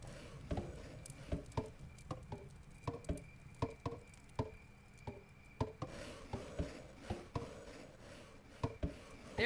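Builders hammer in Kingdom: New Lands, sharp soft taps repeating in an uneven steady rhythm, fairly faint and close, with little else heard.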